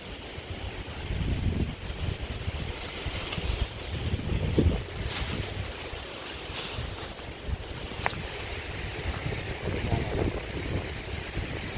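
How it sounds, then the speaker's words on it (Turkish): Strong wind roars steadily across the microphone in a garden, a constant rushing buffet with occasional gusts and faint creaks, no voices. "O kadar rüzgar esiyor ki."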